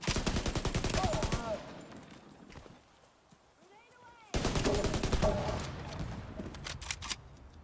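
Rapid bursts of gunfire in The Division video game, dense and loud in two stretches with a quieter gap between, mixed with other game sounds and voices.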